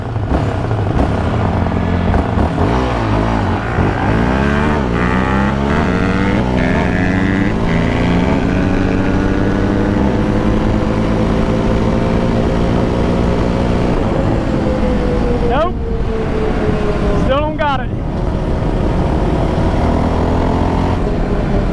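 Stock Honda CRF 250R dirt bike and stock Yamaha Raptor quad racing on pavement, engines roaring loud and continuous, revving up through gears with rising and falling pitch and sharp shifts near the end.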